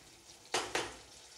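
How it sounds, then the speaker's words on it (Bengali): Fried katla fish pieces drop into a pan of cooked masala, making two quick, loud sizzling splats about a fifth of a second apart over a quiet, low hiss. "এরপরে ভেজে রাখা মাছগুলো আমি একে একে দিয়ে দেব।"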